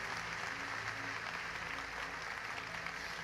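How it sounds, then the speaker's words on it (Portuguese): Congregation applause offered to the Lord during a church service, a steady, fairly faint wash of clapping with a low sustained tone underneath, even in level from start to finish. "Dê um aplauso bem forte ao Senhor nessa noite, nesta manhã"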